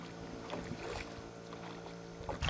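Steady splashing and water movement from paddles working a small boat on a lake, continuous and fairly close, with a brief sharper splash at the end.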